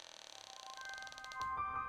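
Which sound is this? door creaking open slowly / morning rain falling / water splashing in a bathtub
door creaking open slowly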